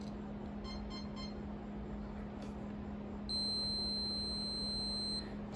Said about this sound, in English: Touch one here. Yeah, and you can hear it buzzing.